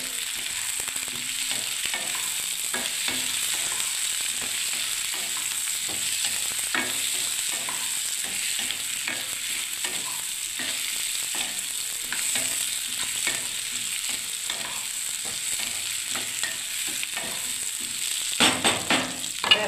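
Oil-coated eggplant pieces fry in hot oil, a continuous crackling sizzle with light stirring taps that stays even and close, with a few louder knocks near the end and no talking.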